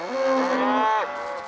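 A single cow on a cold-weather ranch lets out one loud, close moo lasting about a second, with a falling pitch at the end.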